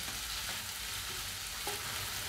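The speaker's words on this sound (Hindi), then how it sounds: "अब ये टमाटर को भी 2 से 3 मिनट पकने देंगे ताकि थोड़ा सॉफ्ट हो जाए।" Tomatoes fry in a pan for palak paneer, giving a steady close sizzle with a few faint clinks of stirring.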